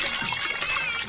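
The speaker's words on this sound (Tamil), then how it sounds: "ஓடுற தண்ணி" Running water flows and trickles steadily at a constant loudness, a brief continuous wash of splashing liquid.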